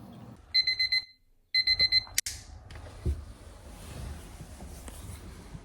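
An alarm clock rings at 4 a.m., two bursts of rapid high electronic beeping separated by a short silence, followed by a sharp click and quiet room noise.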